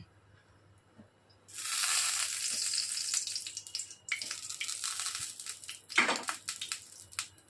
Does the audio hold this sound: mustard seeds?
yes